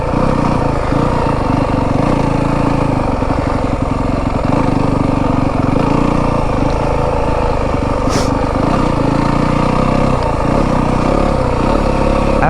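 A Yamaha WR 250F dirt bike engine runs continuously while riding, a loud, close, steady drone with small throttle shifts and no talk over it.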